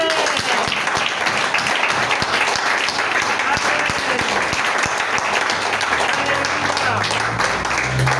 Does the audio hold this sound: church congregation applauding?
yes